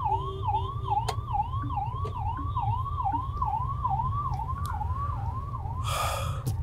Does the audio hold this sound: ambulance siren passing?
yes